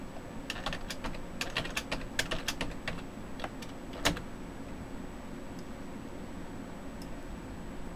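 Quick keystrokes on a computer keyboard as a file name is typed, a cluster of close clicks over the first few seconds, one louder tap, then a couple of sparse taps in a quiet room.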